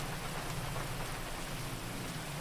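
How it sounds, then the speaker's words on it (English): Steady heavy rain pours down in a GTA roleplay game world, a dense, even hiss with low rumble that holds without break, no talk over it. "why we are over here in the pouring rain"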